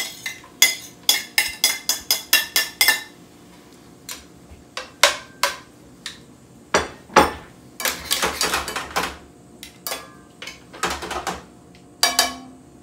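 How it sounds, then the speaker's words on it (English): Clams and mussels in their shells slid into a pan with their juices for a seafood sauté: rapid bursts of hard clattering and clinking shells, in quick clusters broken by short pauses, close and fairly loud. "we're going to start sliding in shell clams, the shell mussels. and all the juices"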